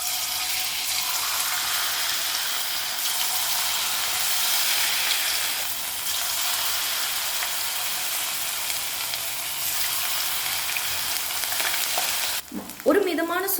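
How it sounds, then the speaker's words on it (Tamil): Raw baby jackfruit pieces fry in hot oil with a loud, continuous crackling sizzle that stays even throughout. A brief utensil clatter comes near the end. "இப்போ பலாக்காய் எல்லாத்தையும் ஒன்று ஒன்றா போட்டு ஃப்ரை பண்ணி எடுத்துக்கலாம்."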